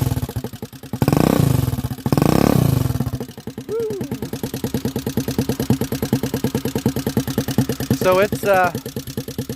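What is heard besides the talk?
trike engine with aftermarket exhaust pipe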